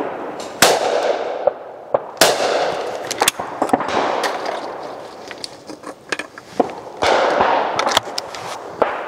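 Several sharp, loud shotgun blasts at clay targets, each a crisp crack with a short ringing decay, spaced irregularly across the stretch, from a budget high-comb ladies' shotgun.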